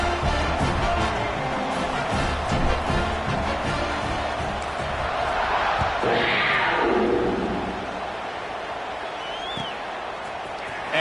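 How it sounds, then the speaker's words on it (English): Stadium crowd at a Kentucky versus Ohio State college football game, a steady broad roar of cheering rising in the middle then easing, heard at a distance with a few thuds. "this crowd is feeling themselves after that last drive"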